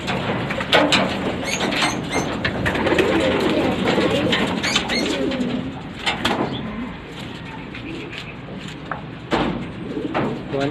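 Racing pigeons coo softly in a loft amid a busy background of rustling and flapping, with a few sharp knocks and faint voices nearby.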